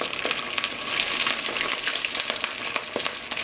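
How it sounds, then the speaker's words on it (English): Vegan rice balls frying in hot oil in a small iron pot, giving a steady, close crackling sizzle with scattered sharp pops throughout. "we're gonna fry this"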